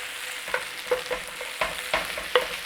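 Onions caramelizing, sizzling and crackling in hot oil, with a few louder pops and stirring scrapes at irregular moments, close by and fairly quiet.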